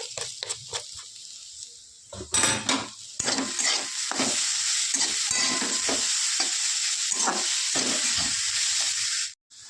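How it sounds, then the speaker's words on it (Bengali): Radish greens stir-fried with sugar in a pan give a continuous sizzle, broken by repeated scraping stirs and clattering strokes of a spatula against the metal, close and fairly loud. "চিনি দিয়ে খানিকক্ষণ নাড়াচাড়া দিয়ে ভেজে নামিয়ে নেবো"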